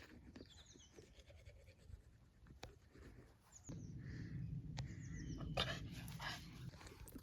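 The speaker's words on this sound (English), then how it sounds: "That dog is a nursing" A nursing mother dog whimpering and whining, with thin high cries repeated in short bursts, then a louder nearby stretch of rough whining noises.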